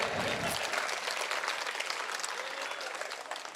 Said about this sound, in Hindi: कितने लोग और सुनेंगे? ताली बजा के बताइए।